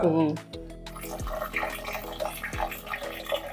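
Water pours and splashes into a container close by, a steady running trickle with small drips, after a brief voice at the start.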